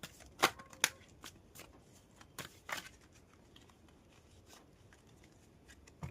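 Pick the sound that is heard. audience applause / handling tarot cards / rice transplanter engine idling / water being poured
handling tarot cards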